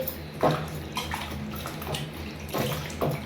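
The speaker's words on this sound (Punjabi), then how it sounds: "ਪਹਿਲਾਂ ਨੂੰ ਚੰਗੀ ਤਰ੍ਹਾਂ ਧੋ ਦਈਏ ਦੋ ਤਿੰਨ ਪਾਣੀਆਂ ਦੇ ਵਿੱਚ" Taro roots (arbi) are washed in water inside a kitchen vessel, producing close, continuous splashing and sloshing with a few louder swishes as the roots are rubbed and moved around.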